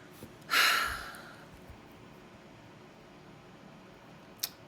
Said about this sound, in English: Sorry, I'm sniffling.